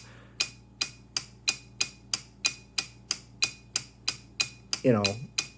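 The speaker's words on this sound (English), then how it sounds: "obviously the solenoid, again, still too loud" An Arduino-driven solenoid strikes a small bell in a steady, fast series of about thirteen sharp metallic dings, close and fairly loud, ending in a brief rattling buzz.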